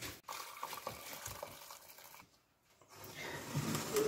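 Soup broth for Polish żurek strained through a sieve, liquid pouring and splashing steadily at close range, pausing briefly midway, then resuming louder with a bright trickle.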